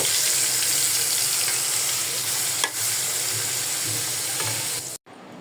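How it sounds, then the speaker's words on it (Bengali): Salted hilsa fish frying in a pan, a loud, steady hiss of sizzling oil with occasional spatter pops, ending in a sudden brief cutoff. "এই যে মাছটা হচ্ছে আমি ভাজি করে নেই"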